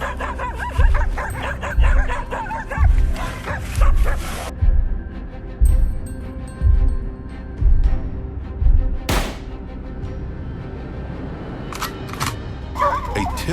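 Hunting dogs on a bear hunt bark in a rapid, repeated series of loud, close yips and bow-wows, then fall quiet briefly before scattered barks and whimpers return.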